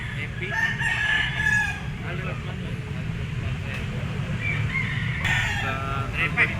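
A yellow-legged Golden Boy sweater bull stag rooster crows among other fowl, the call rising over a constant bed of background noise and low rumble.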